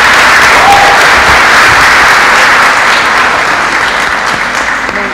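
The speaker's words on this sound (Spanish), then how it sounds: "Un aplauso, pues, para esta hermana." Church congregation applauds a woman invited up onto the stage, a loud, close burst of many hands clapping that holds steady and eases slightly toward the close.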